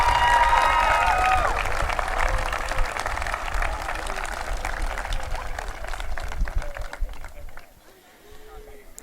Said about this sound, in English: if we could just get another round of applause for him and all our Triton singers